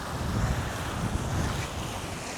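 Strong wind buffets the microphone beside open water in Japan on an autumn outing, a steady loud roar mixed with lapping waves and no voices throughout.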